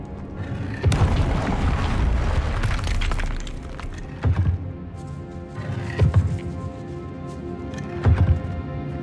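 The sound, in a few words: Confringo fire blast spell explosion in Hogwarts Legacy video game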